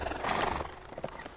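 A horse neighs at a stable in the video game Black Desert Online, a brief, close whinny over a steady background of game ambience with a few soft hoof-like knocks toward the end.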